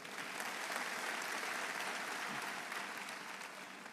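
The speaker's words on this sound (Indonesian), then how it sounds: "Tepuk tangan yang heboh dong." Loud, continuous clapping from a church congregation fills the space, a broad crowd applause that holds steady the whole time.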